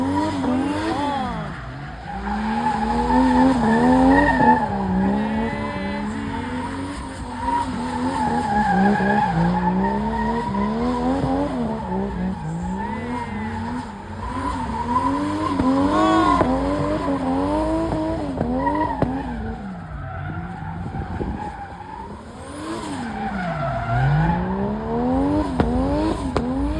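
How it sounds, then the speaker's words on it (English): Cars drifting at Valley Run produce continuous loud tire squeal and skidding, with wavering screeches and engine revs that rise and fall throughout. "You are about to experience something insane, some insane drifts."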